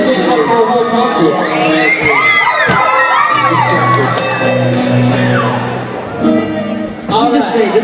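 A concert crowd in Houston cheers, screams and whoops loudly and continuously, many high excited voices overlapping close up with shouts rising and falling.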